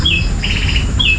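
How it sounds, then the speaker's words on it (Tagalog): Birds chirp outdoors in the Philippine countryside near farm fields, a few clear high tweets and a short trilling call repeating close by over a steady background hum. "Maririnig nyo yung huni ng ibon"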